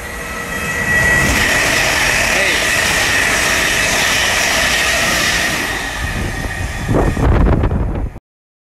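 A four-carriage train rumbles loudly through Mill Hill Broadway station, a steady roar of wheels and rail noise with high squealing tones, swelling as it passes then fading with a few clanks before cutting off.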